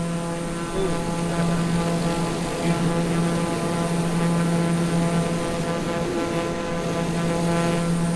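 A TBM850 single-engine turboprop in Microsoft Flight Simulator drones steadily in flight, a constant loud propeller and engine hum with a tonal whine, heard from outside the aircraft.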